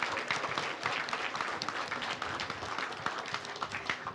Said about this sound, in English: Applaus voor de kinderen.